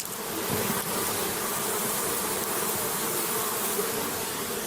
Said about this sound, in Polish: drogie pszczółki, proszę dać głos.